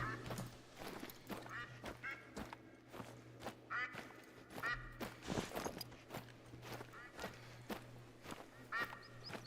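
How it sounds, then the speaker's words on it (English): Ducks quack repeatedly in the hunting game theHunter: Call of the Wild, bursts of calls scattered over a low steady hum and soft footstep thuds, moderately distant and faint. "so it was ducks there and they're running away. Didn't even hear them land. Just lots of quacking."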